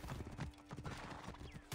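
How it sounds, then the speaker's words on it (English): Horse hooves clip-clop in the Assassin's Creed Origins video game, a quick run of close, distinct steps with a short whinny-like rise near the end. "Call your horse."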